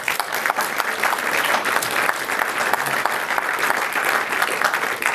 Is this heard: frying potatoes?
no